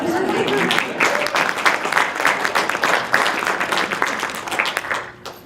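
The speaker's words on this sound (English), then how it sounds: "I think we ought to give her a round of applause" Audience applause for an author arriving to discuss her book on the Winchester company, dense clapping holding steady and loud throughout before thinning and dropping off at the very end.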